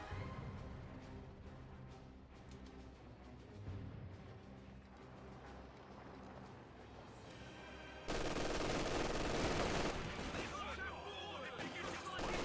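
Machine-gun fire from an MG42 in the wartime strategy game Company of Heroes 2, dense bursts of shooting and battle noise running under steady talk throughout, growing louder and harsher toward the end.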